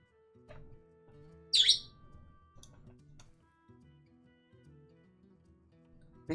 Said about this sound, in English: Big chirp.